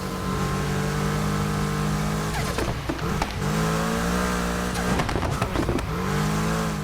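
Volkswagen Golf GTI with a swapped engine in the racing game NFS Unbound, droning steadily and loud as it revs, with a couple of sharp shifts and brief tire noise breaking the sustained engine tone.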